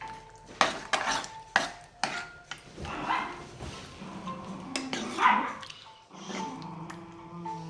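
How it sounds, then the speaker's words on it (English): A small chihuahua barks in a home kitchen, several sharp, fairly loud yaps spread across the clip, mixed with clattering pots, pans and cutlery. "That ferocious sounding animal is my chihuahua."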